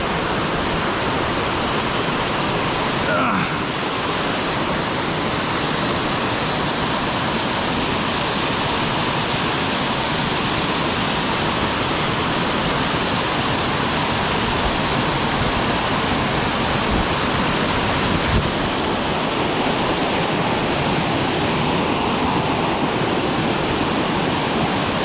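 White Owl Falls pours in a steady, loud, close rush of falling water, a dense unbroken roar with no voices over it.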